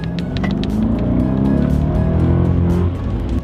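A car in sport mode gives off a loud, close, continuous exhaust gurgle and rumble with crackling texture over a few seconds, without talk.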